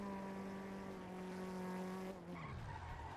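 A race car in GTA V on the NoPixel server, its engine holding a steady, loud drone with tire squeal. The pitch drops sharply near the end as the gear shifts, and no one speaks.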